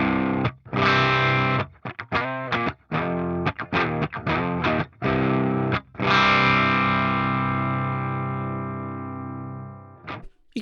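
An electric guitar runs through an Amphub pedal emulation in clip mode 3, giving heavily distorted, saturated chords. Several choppy strummed stabs come first, then one long ringing chord slowly decays over about four seconds, with no talking.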